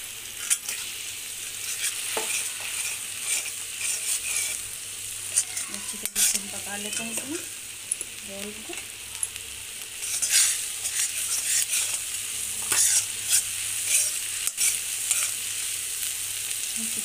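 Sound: semolina potato mixture cooking and stirred in pan

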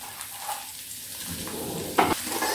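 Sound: chopped onions frying in a pan

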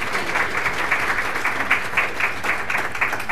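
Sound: audience applause welcoming a speaker

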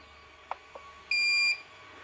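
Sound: confirmation beep from Mongoose camera trigger device

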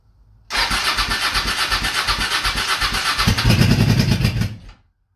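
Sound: motorcycle engine cold start

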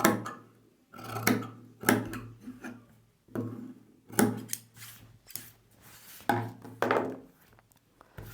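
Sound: scissors cutting blouse fabric straight

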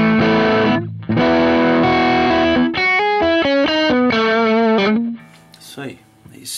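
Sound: electric guitar through V8 Drive distortion pedal

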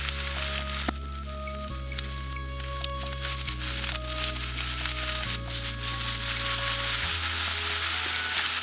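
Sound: champignon mushrooms frying in refined oil

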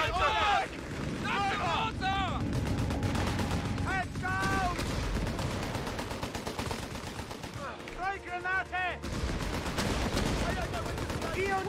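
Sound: gunfire in the video game Company of Heroes 3

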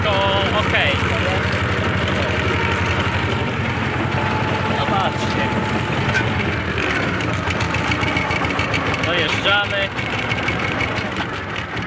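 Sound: tractor engine running at 1800 rpm pulling disc harrow

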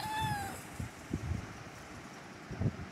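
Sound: cat meowing in the video game Minecraft

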